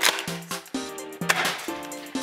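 A CYMA Benelli M3 short air-cocking airsoft shotgun, fired three pellets at a time at a shooting range: a run of sharp, close, hollow clacks with brief metallic ringing, spaced about a quarter to half a second apart, and no speech.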